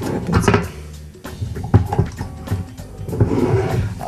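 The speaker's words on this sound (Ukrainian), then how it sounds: "в нього відкриваються і двері." The door of a wooden toy Renault Magnum tractor truck opens with short, close wooden creaks and knocks that are quick and uneven.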